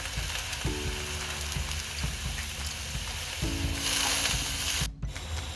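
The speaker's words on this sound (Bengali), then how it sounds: "প্রথমে কড়াইতে দিয়ে দিচ্ছি নাপা শাক" Napa greens go into a hot wok with a rising hiss and sizzle, mixed with rattling pan and utensil scrapes and clunks, loud and close with no speech.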